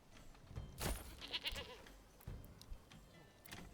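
Faint goat bleats come and go among scattered rustles and thumps, quiet and somewhat distant in an outdoor setting, in a video game.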